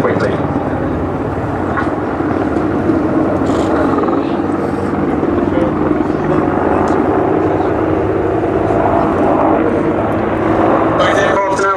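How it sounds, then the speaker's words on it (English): Military aircraft fly a wingover at the Duxford VE Day anniversary airshow, a loud, continuous engine roar filling the whole stretch with a public-address commentator talking over it. "Both aircraft are now going to fly a wing over."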